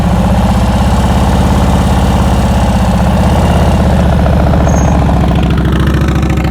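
A motorcycle engine idles and is held under light throttle during slow-speed riding practice, a steady close rumble with a faint rhythmic pulse running unbroken throughout.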